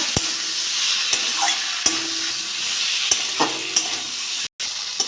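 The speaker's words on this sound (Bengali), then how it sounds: "মশলার সঙ্গে ভালো করে কষে নিয়েছি আমি" Chili, cumin and coriander powder spices sautéed in a pan for a potato and brinjal dish with puti fish, a steady sizzle broken by sharp scraping stirs at irregular intervals, close and fairly loud, with no talking.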